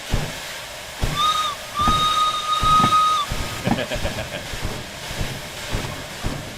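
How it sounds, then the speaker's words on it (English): In the Derail Valley simulator game, an S060 steam shunter locomotive's whistle sounds twice over a rushing hiss and rumbling, clanking rail noise, with faint voices underneath. "I like the big steam train."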